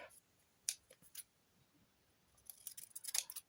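Scissors cut paper to make small tags, with a few isolated crisp snips early on and then a denser cluster of quick cutting clicks close by near the end, set against a quiet room.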